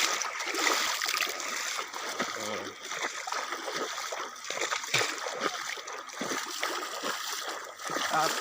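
Cold water of the Dibang river rushes and splashes steadily nearby, a continuous broadband wash with small surges and no pauses.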